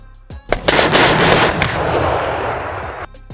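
An RCH-155 self-propelled artillery gun fires with a heavy blast, followed by a long rolling boom and crackling rumble that fades slowly over a few seconds.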